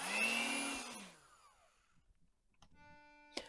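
An electric mixer blends orange zest into Italian ricotta cookie dough, its loud motor whirring for about a second before winding down, followed by near silence, a few light clicks, a brief steady hum and a sharp clack near the end.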